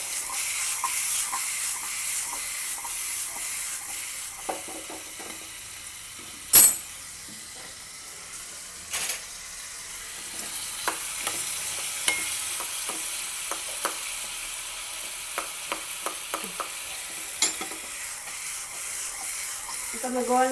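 Jaggery melting in a hot pan while being stirred for Holi sweet puri: a soft, quiet sizzle with scattered scraping stirs and one sharp clink partway through, continuing steadily throughout.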